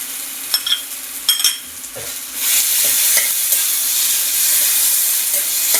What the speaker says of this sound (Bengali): ভেজে নেবো আদা রসুনের কাঁচা গন্ধটা চলে যাবে